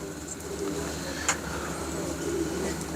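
Pigeons bred for racing coo softly at a loft, a steady low murmur with a brief sharper call partway through, moderately close and without speech.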